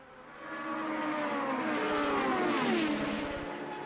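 A 1982 Formula 1 race car roars past at a Grand Prix, its high engine note rising and then sliding down in pitch as it goes by, fairly faint and distant with no talk.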